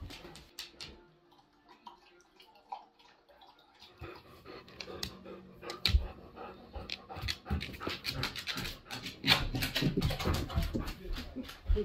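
A dog pants and whimpers close by during a family card game at home, breathy rhythmic puffs growing busier and louder, with scattered clicks and small thumps.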